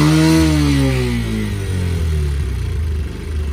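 A motorcycle engine just back from service revs hard during a pickup test, a loud close rising roar that drops then climbs again with a throbbing exhaust note, no voices.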